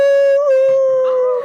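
A person's voice imitates a wolf howl: one loud, close, sustained tone that wavers slightly in pitch and fades off at the end.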